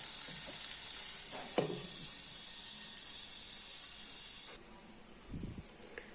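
Slices of brinjal frying in a pan, a steady close sizzle and hiss running throughout with a few soft clinks and stirring sounds as the slices are turned.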